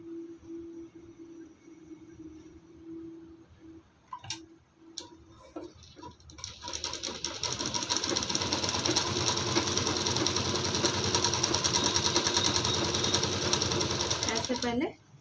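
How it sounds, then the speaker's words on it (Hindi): A sewing machine stitches lining to a kurti neck, starting after a few clicks and knocks and then running as a fast, steady whirring stitch for several seconds before stopping abruptly. "ऐसे पहले सिलाई को लगाते जाना है।"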